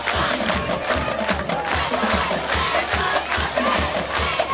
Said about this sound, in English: I have a feeling this crowd here at Northrop is very excited for this game.